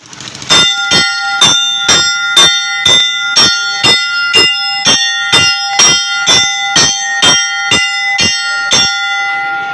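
Police ring a school hand bell through the streets of Lodhran during a Corona safety campaign, about twenty loud, bright clangs struck in a steady, even rhythm up close.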